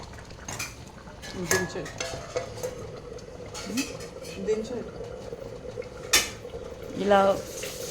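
Mutton paya, a trotters soup garnished with coriander, stirred in a pot: soft scraping and clinks of a spoon against metal over a low simmering hiss, with faint talk nearby.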